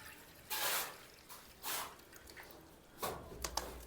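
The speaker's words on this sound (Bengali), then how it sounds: "এই হাফ লিটার লিকুইডটাকে আমি একটা পাত্রে নিয়ে নিচ্ছি" Half a litre of liquid is poured into a container at home: three short, soft splashing gushes separated by quiet pauses, faint and close.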